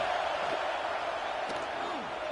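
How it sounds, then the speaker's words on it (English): A home crowd at a football game roars in a steady, loud wash of cheering, sustained throughout with faint shouts rising from the stands. "how nice is it to have the home crowd going absolutely bananas?"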